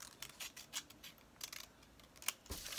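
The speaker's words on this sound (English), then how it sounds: "And then you can cut it out." Scissors snip through paper while a drawing of an octopus is being cut out, giving a few quiet, closely spaced crisp cuts and rustles, close and faint, with no talk.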